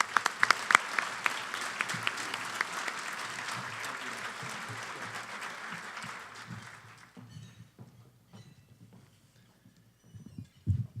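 An audience at a Fox Cities economic outlook lunch breaks into loud, sustained applause for a speaker, thinning out to scattered claps and then quiet room noise before a few final bumps.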